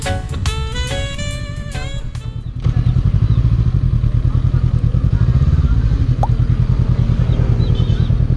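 A 500cc motorcycle on a Holy Week ride, its engine note loud and steady close to the rider, with a brief stretch of music before the engine sound takes over.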